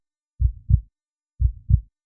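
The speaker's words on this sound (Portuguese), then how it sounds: "Você deixa de escutar o som da água e começa a ouvir seu próprio batimento cardíaco." A heartbeat sound effect thumps in two slow double beats, deep and muffled, clean and isolated with silence between them.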